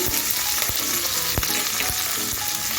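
Chopped ginger and green chilies fry in hot oil with mustard seeds in a pan, a loud continuous sizzle broken by a few sharp scrapes and knocks of a stirring spoon.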